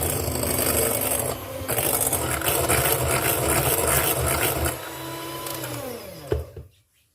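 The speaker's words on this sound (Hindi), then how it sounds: "इन दोनों को हम अच्छे से बीट कर लेंगे।" An electric mixer beats egg whites and sugar for a sponge cake with a loud, steady whirring drone and rattling against the bowl, pausing briefly once, then winding down and stopping.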